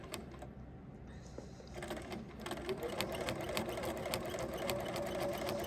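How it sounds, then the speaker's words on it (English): A sewing machine stitches in the ditch along the seams of a baby quilt, running in a steady, continuous whir that grows a little louder partway through, with no talking. "So I am going to stitch in the ditch."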